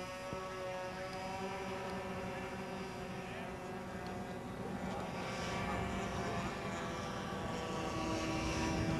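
A scale RC model Savoia Marchetti SM-81 plane powered by three K&B .35 engines drones steadily overhead at a distance, a buzzy multi-engine whine that swells slightly toward the end.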